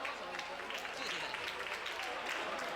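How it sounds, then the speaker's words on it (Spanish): Audience applause at an anime and manga convention stage show: a dense, steady wash of many hands clapping throughout, moderately distant, with no talk over it. "¡Ole, un fuerte aplauso!"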